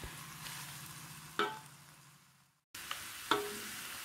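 Chicken pieces for Balinese ayam betutu stir-fry in a large wok. A steady soft sizzle runs underneath, and two or three scraping stirs come through near and clear. A brief silent gap falls midway.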